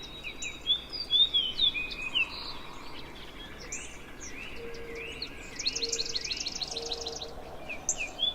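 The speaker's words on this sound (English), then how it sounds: "I heard the ringing trill of a dark-eyed junco" Outdoors in a backyard, a dark-eyed junco gives a ringing trill among scattered chirps and calls from other birds, fairly faint and at a distance.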